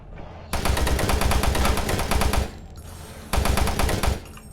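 Enemy gunfire in DOOM 3, loud sustained automatic bursts from about half a second to 2.5 seconds, then a pause and a second shorter volley near the end.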